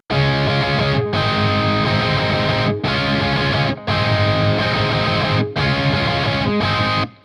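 Loud, heavily distorted electric guitar chords are held in long bursts. Brief silences separate them, giving several sustained strummed blocks, close and with no voices.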